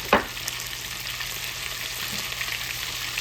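Shrimp frying in hot oil, a few at a time, with a steady close crackling sizzle and a brief louder pop near the start, no talking.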